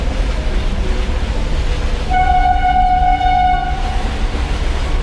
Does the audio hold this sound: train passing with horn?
yes